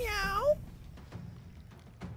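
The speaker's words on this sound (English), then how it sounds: "That was the cat." A house cat gives one short, rising and falling meow up close, then a quiet room with faint scattered clicks follows.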